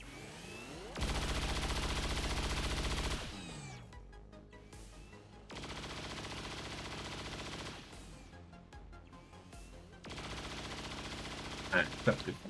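Three automatic bursts from a soldier's weapon in the turn-based strategy game XCOM 2 Long War of the Chosen, heard as loud sustained fire separated by quieter game ambience, with a few sharp clicks near the end.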